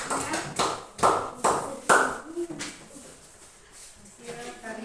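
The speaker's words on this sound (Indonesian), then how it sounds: "tepuk tangan buat kelompok 1" A classroom claps for a student group with a handful of separate, close claps, then the clapping fades and a voice speaks.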